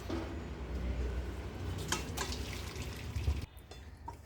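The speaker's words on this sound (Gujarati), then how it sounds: "આને આપણે એનું બધું પાણી કાઢી નાખવાનું" Water draining and dripping from boiled greens being strained for a chilli muthiya recipe, a steady wet trickle that ends abruptly near the close.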